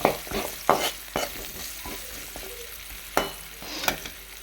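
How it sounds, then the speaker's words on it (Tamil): Gooseberries sautéed with asafoetida powder in a pan for amla pickle, heard as a low sizzle with a spoon scraping and stirring in several sharp bursts, close and alone with no talk. "இப்போ நெல்லிக்காயில் கொஞ்சம் பெருங்காய பெருங்காயத்தூள் ஆட் பண்ணிக்கலாம் ஓகேங்களா நல்லா வதக்கி விட்டுக்கலாம்"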